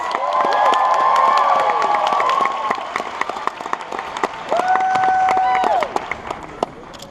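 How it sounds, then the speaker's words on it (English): A theater audience at a musical premiere event applauds and cheers loudly for several seconds, with whoops and shouts rising over steady clapping, and some brief voices mixed in. "Everyone, a big round of applause for Minnie Mouse."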